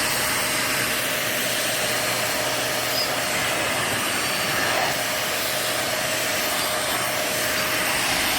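A strong-suction vacuum cleaner running continuously, a steady close whooshing roar with a constant whine, uninterrupted and loud throughout.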